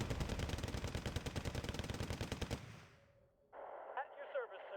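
Rapid rifle and machine-gun fire in a mech card video game rattles in a dense burst of sharp shots for about three seconds, then cuts off, followed by a chirpy electronic radio-like tone.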